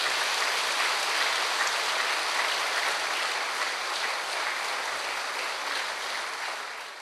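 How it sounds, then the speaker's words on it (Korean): A church congregation gives warm, continuous applause welcoming a visiting pastor to the pulpit, a thick, even wash of clapping that holds steady and fades a little near the end. "뜨거운 박수로 환영하겠습니다."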